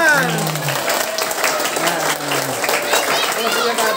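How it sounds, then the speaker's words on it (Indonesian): At a trophy award ceremony at a Quran school, children and adults clap in a busy, continuous round of applause, with voices speaking and calling out over the clapping. "Tepuk tangan, kasih tepuk tangan."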